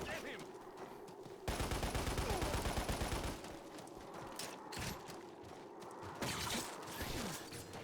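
Gatling machine guns of the Snow Pirates in Lost Planet fire in a long, dense rattling burst that swells loud for a couple of seconds, then carries on more softly with scattered shots under background game noise.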